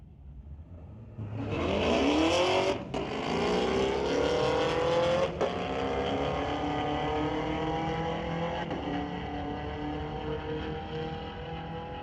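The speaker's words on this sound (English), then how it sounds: "we got that Volkswagen Corrado back up here, taking on Chase Cranmore in the 2017 Camaro." A Volkswagen Corrado and a 2017 Camaro drag race at Mission Raceway Park, with loud engines roaring and revving up through rising gear sweeps, then a long sustained drone as the cars pull away.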